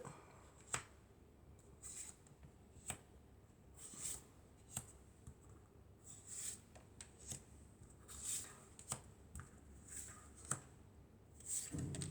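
Tarot cards are shuffled and handled quietly during a reading, giving soft, scattered riffles and flicks with sharp snaps at irregular intervals over a faint, steady room hiss, with no talking.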